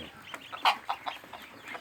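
A few short quacks and chirps come from young ducks in a nursery pen, faint and scattered over a quiet background, with one slightly louder call in the middle.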